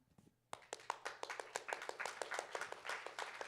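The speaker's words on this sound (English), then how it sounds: "I love these obligatory rounds of applause." Audience at a Ukraine Action Summit panel session breaks into applause: sparse claps grow quickly into a steady ripple of clapping from a modest crowd, fairly quiet and heard alone.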